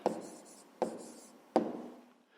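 Three separated scratchy strokes of writing an answer by hand, each a quick pen or pencil scrape that fades, close and fairly quiet with no voices.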